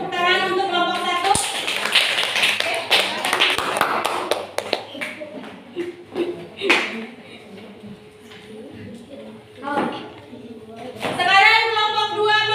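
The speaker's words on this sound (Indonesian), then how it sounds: "tepuk tangan untuk kelompok 1" A classroom of children clapping for a group of pupils, a burst of sharp, uneven claps over roughly four seconds that thins into scattered taps, then dies down before children's voices chatter at the end.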